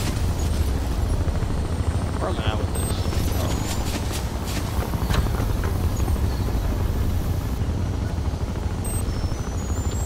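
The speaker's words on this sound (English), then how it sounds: "That helicopter is dead on hitting me." Military helicopter in the video game Crysis, a loud continuous rotor and engine roar filling the whole stretch with steady low rumble, faint scattered gunfire-like clicks and footsteps mixed in.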